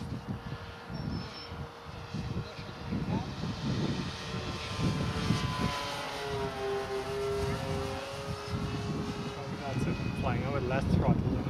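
Twin engines of an ASM A-26 Invader radio-controlled model airplane drone and whine at an RC flying field, rising and shifting in pitch as it passes, with people talking over it.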